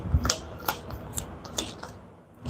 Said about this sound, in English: House Hagal is out of cards, so I have to shuffle up everything